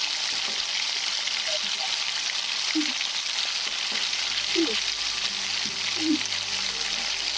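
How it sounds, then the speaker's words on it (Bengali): Ground spices for a prawn and tomato curry are stirred together in a hot pan, a steady, close sizzle with occasional scraping stirs and no talking. "এবারে সমস্ত মশলাগুলো একসঙ্গে মিশিয়ে নিচ্ছি।"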